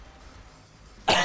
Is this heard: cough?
yes